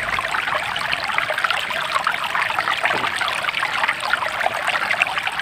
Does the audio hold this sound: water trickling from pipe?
yes